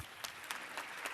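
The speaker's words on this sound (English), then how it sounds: "applause to you." Audience applause at a EUROSCOLA youth parliament session: steady, dense clapping from a crowd throughout, with a few brighter surges of claps, no voices over it.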